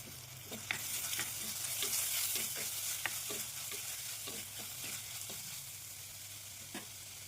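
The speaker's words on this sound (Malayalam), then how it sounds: "വീണ്ടും ഒന്ന് നന്നായി വഴറ്റിയെടുക്കണം" Chopped tomatoes and onions sizzle in a pan for a prawn roast, with a steady frying hiss and irregular scraping stirs throughout, close and with no talk.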